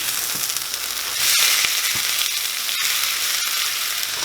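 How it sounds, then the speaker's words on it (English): Diced potatoes sizzle steadily as they fry in a pan while being stirred, with a few sharper scrapes and clicks from the utensil over the constant close frying hiss. "So now just mix everything together."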